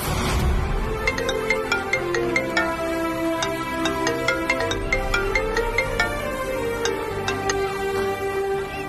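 A melodic phone ringtone plays steadily for several seconds, a repeating electronic tune signalling an incoming call, with no talking over it.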